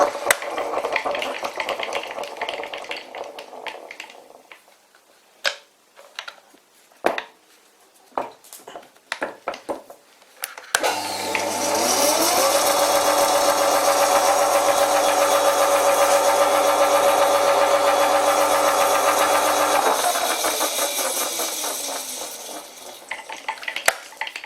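An old World War II-era Fischer lathe runs in gear, giving a steady, loud mechanical whir with a constant tone for about ten seconds, preceded by scattered clicks and clunks of gear shifting and followed by the machine spinning down.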